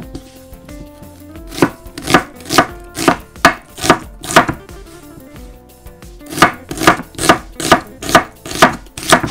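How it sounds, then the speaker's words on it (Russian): Knife slicing onion into half rings on a cutting board, a close, loud series of sharp regular chops in two runs separated by a short pause, no voices. "Лук, друзья, надо порезать полукольцами."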